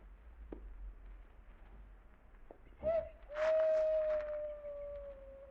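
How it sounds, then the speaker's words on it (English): An owl hoots at night in an old-time radio drama, one rising, sustained call ringing out over a quiet, hissy background after a couple of soft knocks. "Did you hear that owl?"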